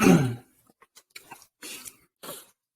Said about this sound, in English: Excuse me for the constantly clearing my throat.